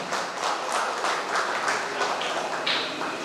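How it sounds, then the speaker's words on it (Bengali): Audience applause at an art exhibition in Kolkata, a dense, steady patter of many hands clapping close by for the full stretch, with no pauses and no voices standing out. "এটি জোরে করতালি হোক ওনাদের দুজনের জন্য"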